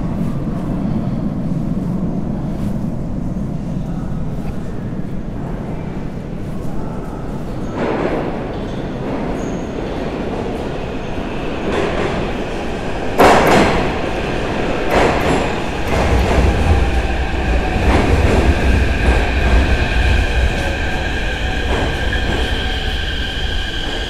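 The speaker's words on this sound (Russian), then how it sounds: "О, мы еще встретим поезд." A Kyiv metro train rumbles and clatters into a station, wheels squealing, and the noise grows louder and heavier toward the end.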